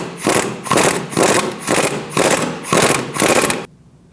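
Ratcheting impact-style tightening of a ball joint bolt with a 15mm socket on a 2012-2020 Chevrolet Sonic front suspension: six loud, evenly spaced mechanical bursts, each about half a second, then stopping abruptly.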